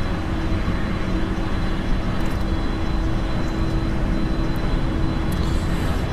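The third jet engine of a Falcon 7X spools up in the X-Plane flight simulator, producing a sustained loud rushing roar with a thin steady whine, unchanging and free of talk.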